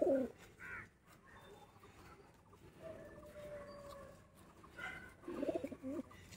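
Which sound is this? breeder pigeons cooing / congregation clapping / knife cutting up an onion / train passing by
breeder pigeons cooing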